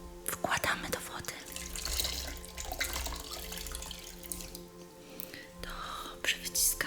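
A small clean cotton towel dipped into water, soft splashing and trickling close up, with quiet whispering over it.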